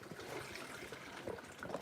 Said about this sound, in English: I've got to fill the coffee pot up with water.